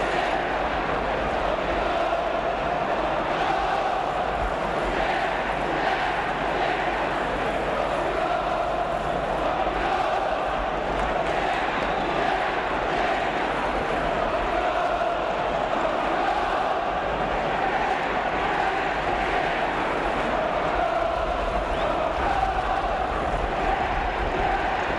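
A large 1968–69 football crowd of Arsenal supporters at a match against Swindon Town roars in a dense, unbroken wash of cheering and chanting that holds steady and loud throughout.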